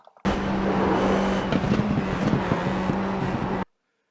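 A Formula IR-04 race car engine in a video game at Knockhill Racing Circuit, a loud steady buzzing drone that holds nearly constant, then cuts off abruptly near the end.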